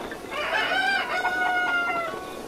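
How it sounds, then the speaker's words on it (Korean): Chicken in the video game Zelda: Breath of the Wild, giving a run of close, clear clucks and rising squawks over a few seconds. "닭이 이렇게 오는데."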